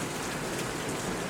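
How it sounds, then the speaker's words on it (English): Steady rain falling outdoors in a garden on an early spring day, a dense even hiss of drops hitting surfaces, continuous and moderately loud with no voices. "the one nice thing about this rain coming in right now is it sure feels like a spring rain"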